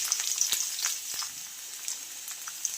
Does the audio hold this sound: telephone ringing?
no